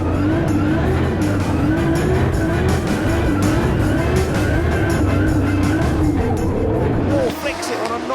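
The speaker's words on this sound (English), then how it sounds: "Lights up the tyres as Falvey tickles the back bumper, the spoiler along" A drift car fires through its run at a drift competition, lighting up the tyres through a transition with a loud, sustained engine roar and tyre squeal, wavering pitch throughout, with a commentator's voice running over it.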